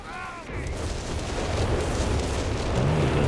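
Artillery fire rumbles in a large Company of Heroes 3 4v4 battle, a dense, loud, continuous wash of booming explosions and blasts with no clear gaps, faint speech underneath.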